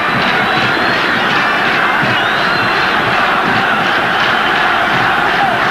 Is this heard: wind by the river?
no